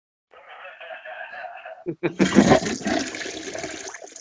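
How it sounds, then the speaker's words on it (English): A toilet flushes loudly and close up, with a sudden gush and a sustained rushing swirl of water as the bowl drains, preceded by a brief stretch of voices. "We'll end on the flush."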